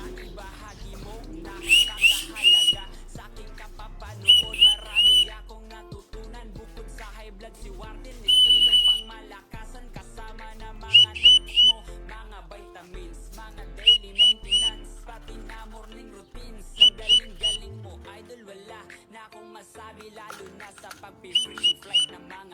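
A training whistle blown for a pet pigeon gives repeated short, shrill double and triple blasts at irregular intervals over a quiet background, with a low voice speaking softly at times.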